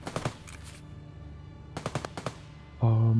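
Automatic gunfire in the video game Escape From Tarkov: two short, rapid bursts of shots, the first near the start and the second a moment later, followed by a steady tonal hum at the end.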